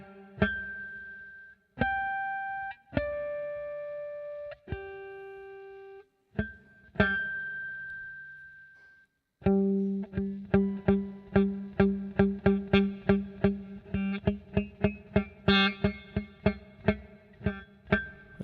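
Electric guitar through distortion plays tapped harmonics: first a few isolated ringing chimes with long sustain and gaps, then a fast, steady run of bright tapped notes, each decaying quickly, no talking.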